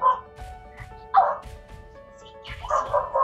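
A dog barks indoors in short bursts, a few sharp barks and yips spaced over a few seconds, fairly close and loud, with faint household background.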